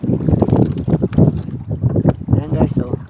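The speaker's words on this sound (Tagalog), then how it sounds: "Kapit na kapit kami, ang lakas ng hangin" Strong wind buffets the microphone over a boat's steady motion on open water, with people talking loudly throughout.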